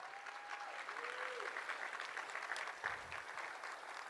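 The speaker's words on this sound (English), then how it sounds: "Let's give yourselves a big round of applause for what you've done so far." Guests at a Fur Ball fundraising gala auction break into continuous applause that stays fairly even throughout. The clapping sounds distant and quiet, filling the room without pause.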